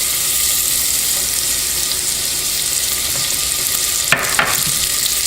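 Onions hit hot bacon fat in a soup pot for potato soup, a steady loud sizzle that runs throughout, broken near the end by a couple of brief scraping stirs.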